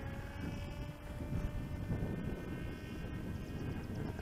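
RC flying wing with a modified motor mount cruising at half throttle into the wind, its motor giving a steady, continuous drone under wind noise on the microphone, with no talking.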